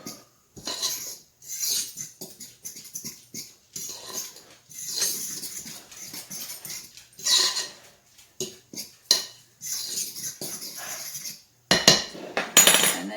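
Spelt flour biscuit dough ingredients, including salt, being mixed in a bowl, with bursts of utensil clinks and scraping against the bowl in irregular rhythm, fairly close, with no talking.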